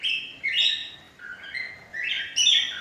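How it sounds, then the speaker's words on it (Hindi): Green parrot with a red beak calling, a series of short shrill squawking whistles rising and falling in pitch, heard alone and fairly clear against a quiet background. "मिट्ठू मिट्ठू मैं करता।"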